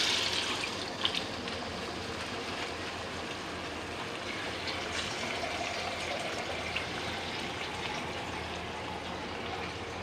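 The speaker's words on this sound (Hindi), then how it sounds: "अब हम इसमें पानी डाल देंगे।" Water pours into a pot of mutton kofta curry, a continuous soft trickling and splashing over a steady bubbling hiss.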